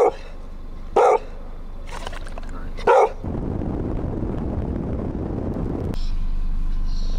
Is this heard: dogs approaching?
yes